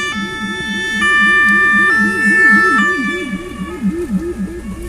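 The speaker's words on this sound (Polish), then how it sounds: "Dlatego ze względu na tą karetkę?" An ambulance siren wails in a fast repeating up-and-down pattern, loud and close as it passes traffic at a city junction, with a steady electronic tone layered above and the sweep fading toward the end.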